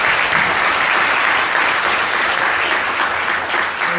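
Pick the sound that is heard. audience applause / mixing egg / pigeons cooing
audience applause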